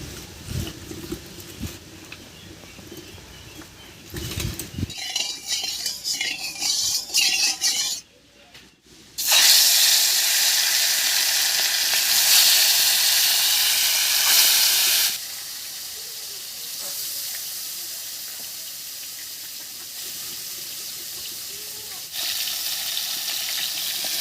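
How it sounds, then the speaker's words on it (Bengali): Rui fish frying in mustard oil in a wok, a steady loud hiss and sizzle that swells sharply after a brief pause and then settles into a softer continuous crackle. "কড়াইতে দেবো সর্ষের তেল মাছগুলো ভাজার জন্য"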